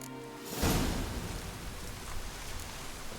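Steady wash of rain in The Witcher 3: Wild Hunt, swelling from a quiet start into a constant, fairly loud hiss of falling water with no voices over it.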